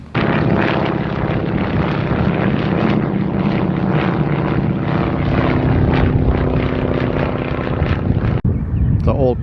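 A vintage propeller airplane arrives at an airshow in a steady, loud engine drone with a buzzing prop tone, close and continuous for several seconds before cutting off abruptly near the end.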